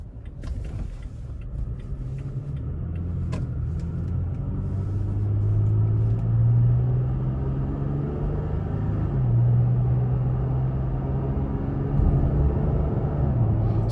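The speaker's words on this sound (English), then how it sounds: "go ahead and take this Tacoma TRD off-road out on the road for a test drive" A 2020 Toyota Tacoma TRD Off Road pickup on a road test drive: a steady low engine and road rumble heard from inside the cab that rises and falls as it accelerates and shifts, with no talking.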